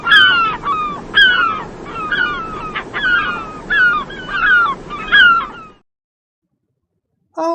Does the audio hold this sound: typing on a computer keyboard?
no